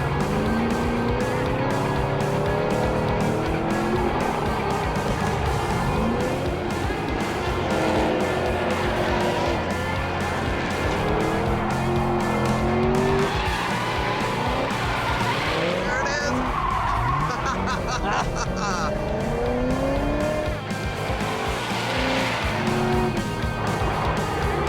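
Drift cars at Power Nationals 2022 in a tandem competition run, tires squealing and skidding loudly over revving, bouncing engine notes, heard from inside the chase car for the whole stretch.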